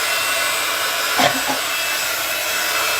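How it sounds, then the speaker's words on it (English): A heat gun drying acrylic paint on an MDF cog gives a loud, steady blowing roar that runs the whole time, with a faint brief scrape or knock partway through and no voices. "I'm going to use the heat gun now, so it's going to be a little bit noisy."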